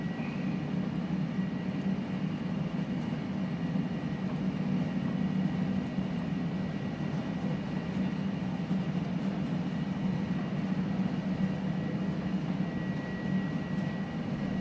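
Steady, even engine roar of an iniBuilds A300 airliner during its takeoff roll in a flight simulator game, a continuous low drone with no speech.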